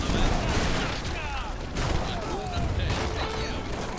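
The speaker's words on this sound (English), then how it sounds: "Oh my gosh, the amount of artillery spam." Cannon artillery fires in Age of Empires III, with about ten cannons in play: repeated booming volleys and clattering impacts in a dense, busy battle mix, while someone talks over the action.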